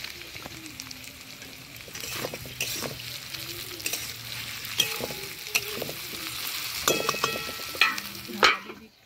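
Curry spices with sugar and red chili powder fry in a pan. A close, continuous sizzle is broken by scraping stirs and clanks of a utensil, loudest toward the end.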